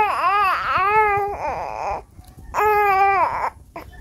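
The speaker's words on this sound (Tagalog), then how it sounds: "kahit tulog yan umiiyak siya para hindi siya maiwan" An infant cries loudly and close by in two strained, wailing bouts, with a brief whimpering lull between them and no talking.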